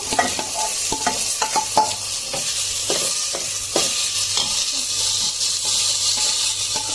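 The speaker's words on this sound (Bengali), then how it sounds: "এবার আমি এই যে গোবিন্দভোগ চালটা দিয়ে দেবো চালটা একটু নেড়ে চেড়ে নেবো" Gobindobhog rice stirred in a pan after cashews and raisins were fried, for payesh: a steady close sizzle broken by repeated sharp scrapes and clicks of a spoon against the pan, with no talking.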